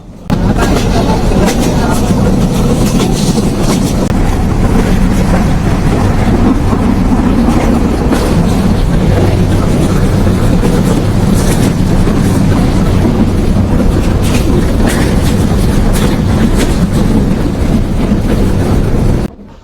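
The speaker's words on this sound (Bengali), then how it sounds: "আমাদের ট্রেনটি আবার দর্শনা হল স্টেশন থেকে ছেড়ে দিয়েছে" The Rupsha Express train runs in Bangladesh after departing Darshana Halt station, a loud continuous rumble and rattle of carriages on the rails lasting the whole stretch.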